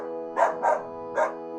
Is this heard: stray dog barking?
yes